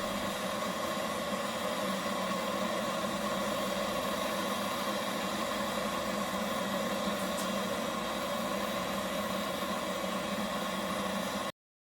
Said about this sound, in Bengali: এখানে দেখতে পাচ্ছ যে আমাদের ভ্যাকাম স্টার্ট হয়ে গেছে